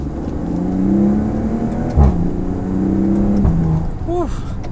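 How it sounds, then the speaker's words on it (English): A 2018 Maserati Quattroporte GanLusso accelerates from inside the cabin, its engine note rising in pitch, briefly dropping at a gear change and climbing again, loud and steady, with a faint whir. "I'm gonna go ahead and give it a little bit of gas again."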